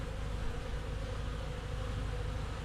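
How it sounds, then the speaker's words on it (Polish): Honeybees buzz in a dense, steady drone around a hive during an orientation flight, the continuous hum loud and close with no voices over it. "A może to nie, to jest oblot pszczoły."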